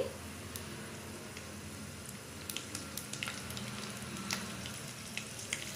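Chili pieces sizzle and crackle steadily in hot oil with chana dal, a continuous close frying hiss with occasional small pops, heard alone without talking.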